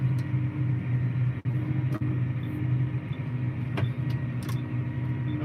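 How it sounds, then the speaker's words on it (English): A car passes on a road beside a corn field, its low engine rumble and tyre noise steady across the clip, with a few faint clicks and no speech. "Probably should wait for that car."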